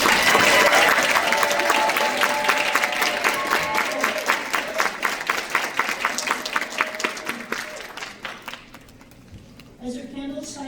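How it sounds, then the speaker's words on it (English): Audience applause for nursing graduates at a graduation ceremony, a dense burst of clapping that thins into scattered individual claps and fades out, with faint voices at the end. "Everyone clap for our grads."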